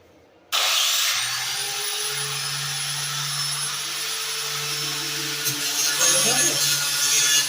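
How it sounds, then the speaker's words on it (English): An angle grinder squares off a metal edge, starting abruptly with a loud, steady abrasive whine and hiss. It keeps an even tone throughout and grows rougher near the end. "So we're gonna square grind this edge too"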